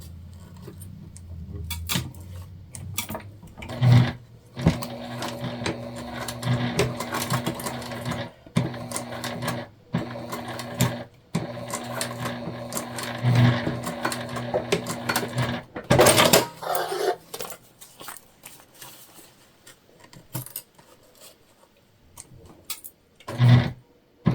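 Close sewing machine basting webbing onto a Nightmare Before Christmas crossbody bag, running in repeated bursts with brief pauses and soft clicks between stretches of stitching.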